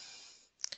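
A faint hiss fades out, then two quick, close computer mouse clicks sound in a quiet room.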